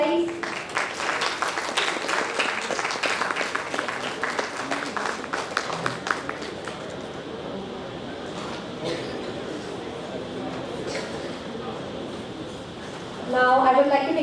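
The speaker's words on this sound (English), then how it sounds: "Please give a big round of applause, guys." Audience applause at an HR conference session on reverse mentoring, clapping blended with speech-like crowd noise for the first half, then a lower, steady room wash, with a brief louder burst near the end.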